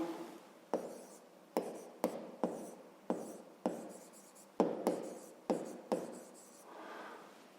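A pen or pencil writes by hand on paper while working a fifth-grade maths exercise, giving a run of short scratchy strokes in bursts with brief gaps between them, close and fairly quiet.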